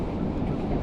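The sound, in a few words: wind blowing on the Oregon coast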